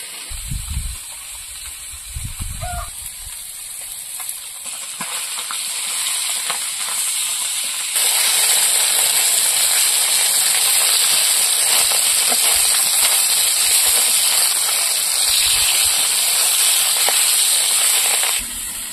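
Bhola bhetki river fish frying in hot oil gives a steady, loud sizzling hiss throughout, growing denser and stronger midway, with a few low knocks near the start and no talking.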